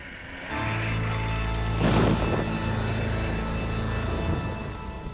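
Thunder rolls during a storm in Red Dead Redemption: Undead Nightmare, a sustained low rumble with a louder crack partway through, layered over steady rain and game ambience.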